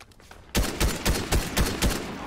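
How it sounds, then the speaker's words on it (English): Video game gunfire in Fortnite: a rapid series of about seven loud, evenly spaced shots rings out close by after a brief quiet moment, with no talking. "Why am I shooting at him?"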